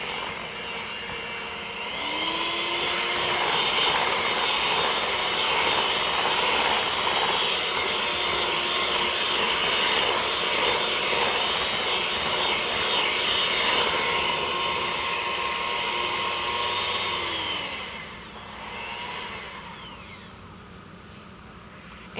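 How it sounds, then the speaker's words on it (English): An electric mixer whipping heavy cream whirs with a steady high-pitched drone that holds for about fifteen seconds, then winds down and stops, close and without talk. "the more you beat it with the mixer, the more the air is beat out"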